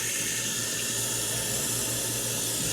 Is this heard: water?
yes